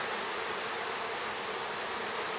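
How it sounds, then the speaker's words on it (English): Honeybees swarm around brood boxes during beekeeping, making a dense, continuous buzzing drone that stays loud and even throughout with no pauses or talk. "first we'll try to get the bees to vamoose off of here"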